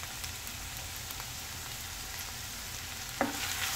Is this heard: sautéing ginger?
yes